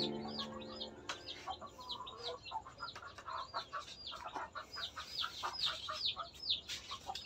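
Backyard flock of mother hens and young chicks, with repeated high peeping chick calls overlapping soft hen clucks, fairly close and continuous throughout.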